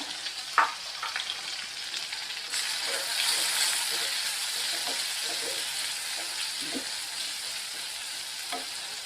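Crushed small shallots sizzle in hot oil with curry leaves, a steady loud frying hiss that swells as they are added, with an occasional stir close by.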